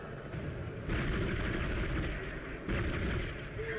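Steady, muffled weapon fire from the sci-fi horror game Dead Space, a continuous rattling barrage at moderate level with a low rumble, pulsing a little louder in a couple of stretches.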